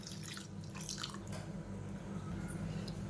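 Water being poured into a sweet appam batter mix of milk and sugar, a soft trickling and dripping with faint splashes, quiet and close with no voices.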